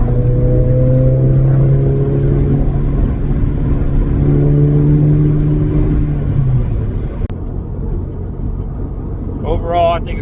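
A 2023 Toyota GR86 with a Borla S-Type exhaust drives along with a steady low drone and rising engine tones that shift twice, then settles into road rumble; a voice speaks briefly at the end.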